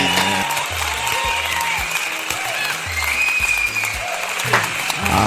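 An audience applauds comedians at a Ghanaian comedy event, sustained clapping and crowd noise, fairly loud, with voices and cheers mixed in.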